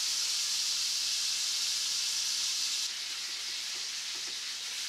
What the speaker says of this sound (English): I'm gonna sear down the fat, sear down the edge.